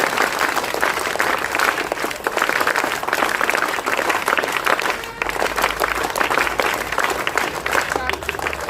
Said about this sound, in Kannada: ಇಂತಹ ಎಲ್ಲ ಅನ್ನದಾತರಿಗೆ ಒಂದು ಜೋರಾದ ಚಪ್ಪಾಳೆ ಬರಲಿ